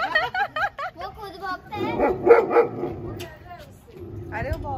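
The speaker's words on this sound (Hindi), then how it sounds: "अरे वो भौंकती है उसको।" A small dog yaps in a rapid run of sharp barks, then whimpers and whines close by, while people talk over it in a home setting.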